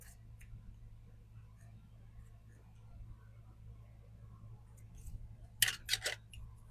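Scissors snip through craft material in two or three quick, fairly close cuts near the end, after a long stretch of quiet room hum with faint handling noises.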